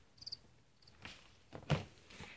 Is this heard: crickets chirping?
yes